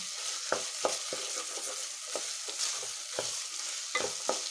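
Vegetables and beans sauté in a pan, with a soft steady sizzle broken by repeated scraping stirs of a spoon, close and fairly quiet with no talking.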